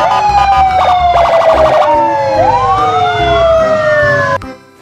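A loud toy police siren wails with rising and falling electronic tones, shifting through several patterns before cutting off abruptly near the end.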